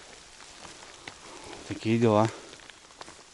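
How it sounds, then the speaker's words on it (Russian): Rain patters steadily on leaves in a forest during mushroom picking, soft and continuous, with someone speaking briefly over it. "Дождь."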